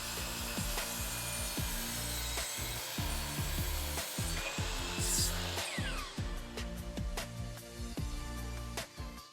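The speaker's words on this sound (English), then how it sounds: "I'm using the table saw, and then I'm cutting it to length with the miter saw" Wood board being cut with a table saw and a miter saw, giving repeated loud whining cuts and rasping bursts with brief pauses between passes, close and without talk.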